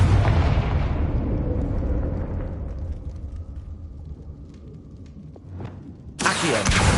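A Confringo fire spell blasts in Hogwarts Legacy, a loud explosion whose rumbling tail slowly fades before a second sharp burst cuts in near the end.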